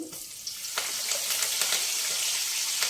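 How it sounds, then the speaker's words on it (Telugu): Tempering spices crackle and sizzle in hot oil in a pan for a prawn gongura curry, a close, continuous bright frying hiss with small pops throughout, no voices. "తాలింపు వేసుకున్నాం కదా, అది వేగుతుంది."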